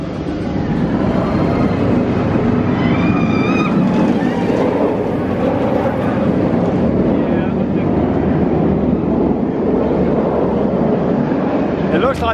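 Nemesis, the Alton Towers roller coaster, rumbles on its final day of operation, a loud continuous roar of the running ride with faint screams, under a busy crowd murmur.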